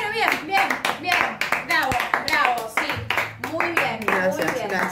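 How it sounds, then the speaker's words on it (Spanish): A few people clap at close range in a short burst while others talk and laugh over it, the sharp hand claps rising and falling under the voices. "Este aplauso."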